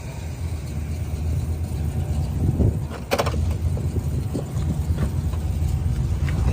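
A muscle car with a 400 engine and an Edelbrock carburetor idles with a deep, steady low rumble, close by, with a brief clunk partway through.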